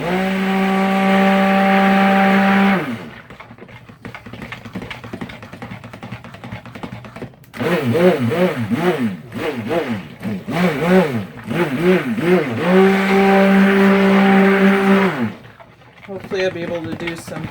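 An electric stick blender whirs through sandalwood-scented soap batter toward light trace, running in bursts with steady whine, pauses and rattly churning between, loud and close.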